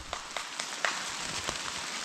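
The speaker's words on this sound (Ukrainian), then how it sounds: "Дощ погано, чутно." Steady rain falls over a forest in May, a dense broadband hiss with scattered sharper drops pattering nearby on leaves and ground, continuous and moderately loud with no talking.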